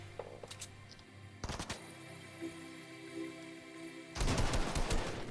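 Gunfire in a Fortnite battle, a few sharp shots early, then a dense fusillade of rapid firing near the end, fairly quiet overall.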